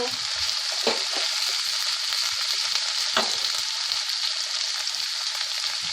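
Mushrooms and boiled chicken frying in a pan for pasta give a steady, dense sizzle throughout, with a couple of brief scraping stirs near the start and middle.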